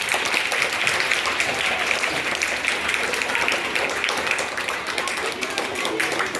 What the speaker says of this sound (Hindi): जोरदार तालियों से स्वागत करें सब लोग।